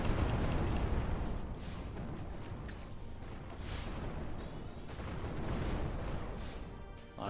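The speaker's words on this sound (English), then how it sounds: "I just watched one of my clones explode." Explosions in the Neon Striker shooter game rumble as a dense, loud barrage of booms and blasts, rolling continuously with swells and dips and no speech.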